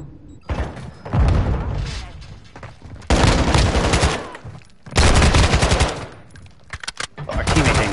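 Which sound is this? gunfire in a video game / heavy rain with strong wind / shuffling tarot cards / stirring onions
gunfire in a video game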